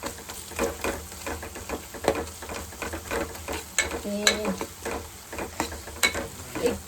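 Kankoda (spiny gourd) sabzi is stirred in a pan, with repeated scraping clicks from a spoon over a soft sizzle and a brief metallic clink partway through.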